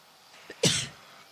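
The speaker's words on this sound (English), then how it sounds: "Did you just cough in my ear?" A single sharp cough close to the microphone during a live broadcast from a skydiving event at Hodges Field, preceded by a faint short throat noise, then quiet room tone.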